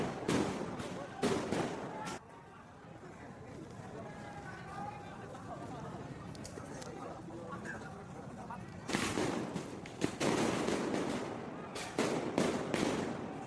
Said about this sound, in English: Setting off a bunch of fireworks.